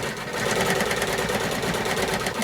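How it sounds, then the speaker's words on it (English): Close, loud and continuous, a sewing machine stitches texture appliqué on a quilt, its motor hum and rapid needle rattle holding steady throughout with no voices. "So I'm just stitching right on top of that"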